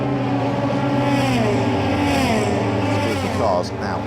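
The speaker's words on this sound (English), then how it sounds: "Cars now hurtle past us on towards the Rettifilio." Euroformula Open race cars during qualifying at Monza hurtle past with a sustained loud engine roar, pitch sweeping as the cars pass close by, with a commentator talking over it.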